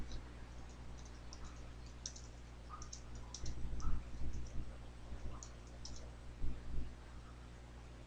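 Computer keyboard keys clicking in quiet, irregular bursts of typing, faint and close over a low steady room hum, with no speech.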